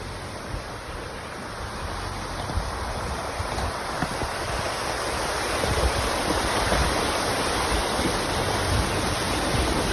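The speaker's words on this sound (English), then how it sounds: "we're back in the woods now on a mix of gravel and dirt, and we're kind of our first stream crossing" Off-road overland vehicle fords a stream on a gravel and dirt woodland trail, a loud, continuous rush of splashing water and roaring noise that swells slightly in the second half.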